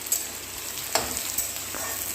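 Onions frying in a pan for an Assamese duck curry, a steady soft sizzle with occasional crackles and faint stirring, close and alone without talk.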